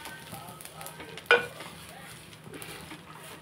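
Curry leaf powder ingredients roast slowly in a little oil in a pan on a low flame, giving a faint, soft sizzle broken by stirring and one sharp clink of a utensil against the pan.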